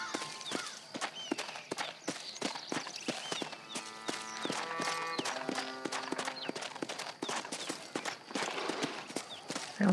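Rapid horse hoofbeats in Red Dead Redemption clatter in a steady galloping rhythm, close and clear, with a short musical phrase playing partway through.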